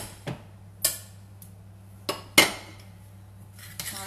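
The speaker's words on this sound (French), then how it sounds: "Alors là, vous pouvez mélanger avec la cuillère." A spoon clinks and scrapes against a bowl while cake batter for a Normandy apple cake is mixed, giving a few separate knocks spaced out in an irregular rhythm, close by and alone.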